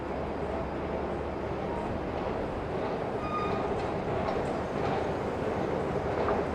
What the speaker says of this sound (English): So here's the 7 train line.